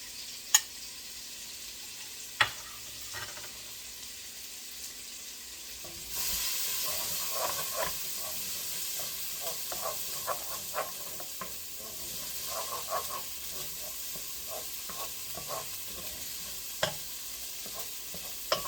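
Bell peppers and onion sauteing with kielbasa in a single pot, giving a steady soft sizzle and hiss with repeated stirring clinks and scrapes that pick up midway, close, with no talking.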